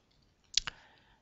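A computer mouse clicking a button, two sharp close clicks in quick succession against a near-silent background.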